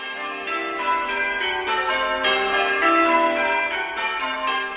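A steady peal of church bells rings out, the tones overlapping and sustained, with no talking.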